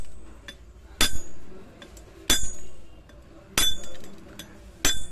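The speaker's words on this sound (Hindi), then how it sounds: "ये हथौड़ी के हैमर के मदद से हमें इसको बुश को फोड़ना होगा।" A hammer strikes a jammed bush on a mixer grinder armature set on a stand, four sharp metallic clinks spaced about a second apart, close and loud with light background noise.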